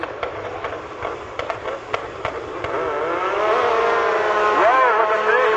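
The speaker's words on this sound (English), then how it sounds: "spooling up turbos" A turbocharged drag racing car at Milan Dragway builds a rising, sustained whine and roar as its turbos spool up, growing louder over several seconds, with a crowd and track ambience behind it.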